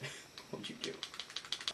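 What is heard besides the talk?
computer keyboard typing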